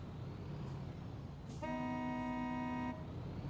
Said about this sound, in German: Boah, ich habe ja eine coole Hupe.